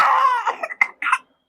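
A child coughs with a drawn-out hoarse cry followed by a few short sharp coughs, close and loud, then silence.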